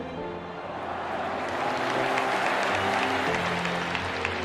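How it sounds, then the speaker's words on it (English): Audience at a memorial event for the victims of the Chapecoense team plane crash (LaMia Flight 2933) applauds in a sustained, dense wash of clapping that swells after the first second and holds steady, with faint crowd murmur beneath. "I would humbly ask you to all applaud for those brothers that are gone"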